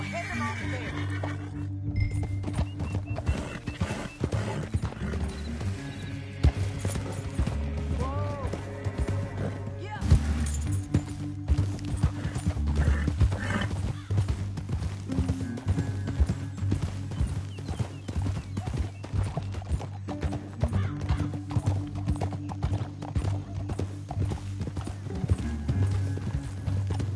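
Horses gallop with rhythmic clip-clop hoofbeats throughout a Red Dead Redemption 2 game scene, with occasional whinnies and clinking tack. Game music plays underneath and characters talk over it.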